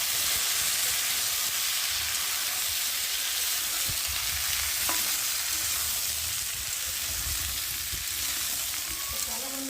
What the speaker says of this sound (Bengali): বন্ধুরা সবজিটা ভাজা হয়ে গেছে দেখতে পাচ্ছি একসাথে ভালো করে ভেজে নিয়েছি